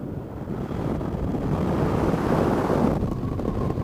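Strong wind blowing steadily outdoors in cold weather, a broad continuous rush that buffets the microphone and builds slightly louder toward the end, with no talking.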